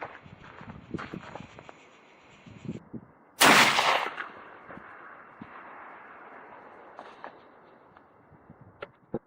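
A single loud shotgun blast is fired at a target, sharp and booming, and rings out briefly. Quieter clicks, handling and shuffling noises come before and after.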